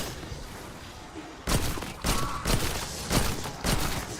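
Maelstrom gun firing in Black Ops 6 gameplay: a steady run of sharp, loud shots in a rapid stuttering rhythm over a constant game ambience, with no talk.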